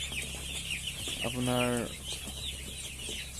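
Broiler chickens in a rearing shed cluck in a short burst of rising calls at mid-distance. Someone speaks briefly at the start, and a steady low hum of fans or machinery runs throughout.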